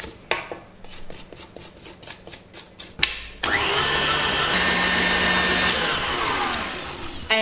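An electric mixer beating yoghurt blueberry muffin batter, starting with a rapid rhythmic clatter of beaters against the bowl, then a sharp jump to a loud, steady high-speed whir that holds close up with no talking.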